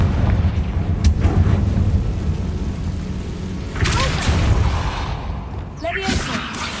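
Fiery Confringo spell blasts in the Hogwarts Legacy video game, heavy booming bursts with low rumble and crackling debris, two swells of impact under a player's voice.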